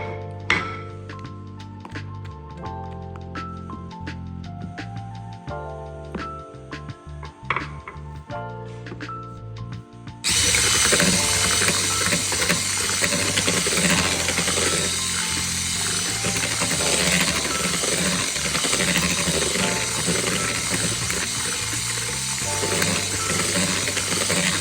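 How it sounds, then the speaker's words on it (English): An electric hand mixer whisks mango ice cream mixture with mango puree in a bowl, starting after a stretch of quieter clinking and then running as a loud, steady whirring drone through to the end. "whisk everything one more time until everything is well mixed and incorporated"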